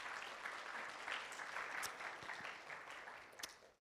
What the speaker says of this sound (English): I want to give a big round of applause to our volunteers and our employees.